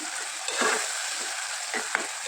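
Softened tomatoes being stirred in a pan for mutton curry give off a steady, close hiss of frying, with faint scraping strokes and a small clink near the end.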